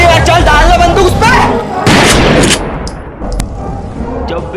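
Several loud gunshots ring out in a Hindi gangster short film, sharp blasts with a booming tail, mixed with shouting voices before the scene quiets into fainter noise.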